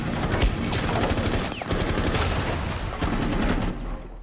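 Rapid automatic fire from a small primary-style weapon in Rainbow Six Siege rattles in a continuous loud burst with game effects and ambient noise behind it.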